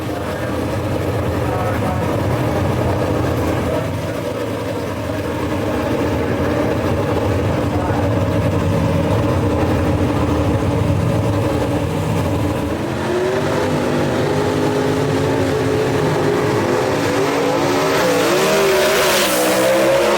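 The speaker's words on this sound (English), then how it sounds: "Good drag race right here, folks." Gasser drag race cars launch and roar down the strip at Brainerd Motorsports Park, a loud continuous engine howl with rising revs and tire noise toward the end.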